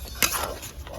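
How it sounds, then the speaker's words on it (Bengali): A spoon scraping and stirring tomato paste in a pan while cooking a duck egg curry, one short clatter of metal on metal followed by a soft, close scraping for about a second. "টমেটো পেস্টটা দিয়ে কিছুক্ষণ নাড়াচাড়া করবো"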